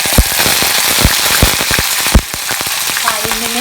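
Green chillies, curry leaves and onion hit hot oil for spinach dal, crackling loudly with sharp irregular pops over a dense, steady sizzle that eases slightly toward the end.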